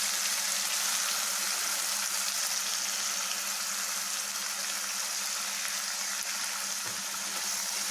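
Ground onion and tomato paste sauté in hot oil for a paneer coconut milk gravy, giving a loud, steady, close-up sizzle that holds evenly throughout with no break.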